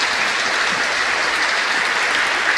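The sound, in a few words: audience applause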